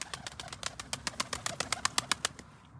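Pigeons coo and flutter nearby, with a rapid series of about a dozen sharp, rhythmic clicking or flapping bursts repeating steadily.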